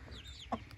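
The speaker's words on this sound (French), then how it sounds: "Et les petites poules aussi qui ont l'air de bien m'aimer" Small hens give a single short, soft cluck up close, with faint high chirps before it and a quiet outdoor background in a tropical setting.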